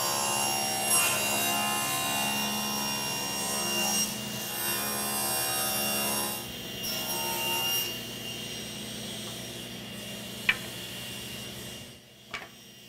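A saw rips wood frame components for kitchen cabinets to 2.5 inches wide, giving a steady, close whining drone for about twelve seconds before it winds down, followed by a couple of sharp clicks.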